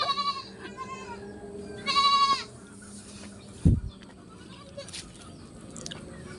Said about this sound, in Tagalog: Sis Bless, ang laki na ng kambing ko.